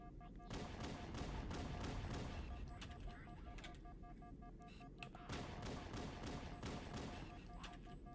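Gunfire in Halo: Combat Evolved, dense bursts of rapid shots in dense volleys with heavy thuds, loud and continuous across the clip, with brief pauses between volleys.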